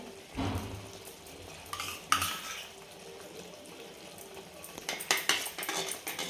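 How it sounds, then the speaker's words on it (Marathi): Fresh cream being stirred into an Afghani-style egg curry, quiet close clinks and scrapes of a spoon against the pot, with a couple of louder knocks and a faint simmer underneath. "हे पण छान मिक्स करून घ्यायची एकजीव एकदम."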